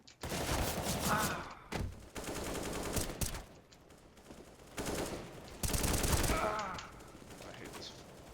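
Gunfire in the video game CS:GO from a secondary weapon fired in taps and short bursts: loud irregular clusters of shots separated by quieter gaps.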